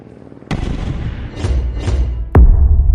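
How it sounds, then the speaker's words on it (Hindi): Two sharp, heavy booms of hand grenade explosions in an animated action scene atop a stadium, the first loud and the second even louder, with rumbling debris and whooshing bursts between them. "स्टेडियम के ऊपर पहुंचते ही मेहुल हैंड ग्रेनेड फेंकने लगता है।"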